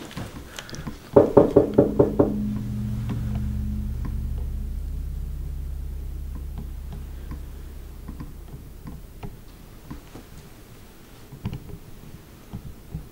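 A quick series of about six sharp knocks on a door, loud and close, is followed by a low hum and scattered faint taps in a quiet, tense setting.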